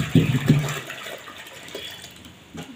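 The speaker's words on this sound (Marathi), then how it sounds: "आलं एकदाचं पाणी" Tap water flows at home as a steady broadband rush, with a louder gurgling burst in the first half-second that settles into an even, moderately close stream.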